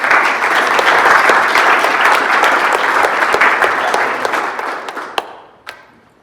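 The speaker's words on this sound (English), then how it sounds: "And one more big round of applause for all of you elite scholars." A roomful of people applauds elite scholars at a county ice cream social: steady crowd clapping that thins and fades out, ending in a couple of last isolated claps.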